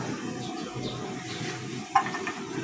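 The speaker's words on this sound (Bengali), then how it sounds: "পেঁয়াজ কুচি আর রসুন কুচি দিয়ে দেব।" Chopped onion and garlic hit a pan of already fried rice, giving an even, close sizzle with soft stirring, and a single bright metallic clink of utensil on pan partway through.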